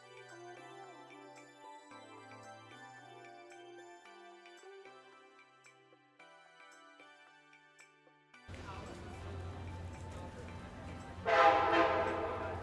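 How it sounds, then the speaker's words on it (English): Quiet music-like tones give way to a loud rumbling Alaska Railroad train rolling past close by through the town of Talkeetna, Alaska, with a sharp burst of horn or squeal near the end. "as you can see and hear, the Alaska Railroad runs practically through the town."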